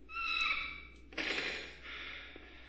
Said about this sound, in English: Breathing hard, but I think it's just from running.